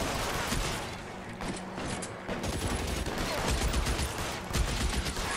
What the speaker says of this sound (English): He's using a machine gun.